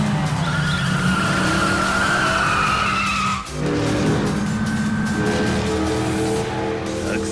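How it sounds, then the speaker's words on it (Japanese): A taxi in the Yakuza 5 video game races at full throttle with a sustained engine drone, while tires skid and squeal loudly over it. There is a brief dip midway before the roaring engine and screeching tires resume. "アクセル全開。"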